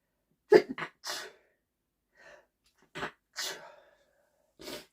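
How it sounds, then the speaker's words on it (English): One sharp sneeze up close, followed by a few quieter breathy sounds and a second short burst, with pauses between them. "Excuse me, I'm going to sneeze."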